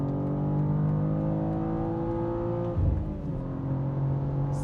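A 2023 BMW M2 with a manual gearbox at speed, its engine droning steadily and loud with a steady whir, a brief bump near the end suggesting a shift before the tone settles again; no talk.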